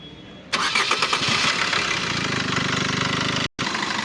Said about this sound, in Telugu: స్టార్ట్ చేసి చూపిస్తాను చూడండి అన్న.